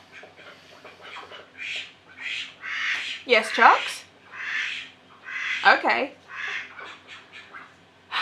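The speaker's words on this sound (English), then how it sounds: "Ducks are so vocal." Ducks indoors eating lettuce on the floor, giving loud squawking quacks in two clear bursts amid softer chattering calls, with someone speaking briefly between them.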